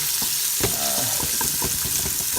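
Vegetables sautéing in a pan for spaghetti sauce, a steady loud sizzle and fry with repeated knocks and scrapes of stirring through the whole stretch.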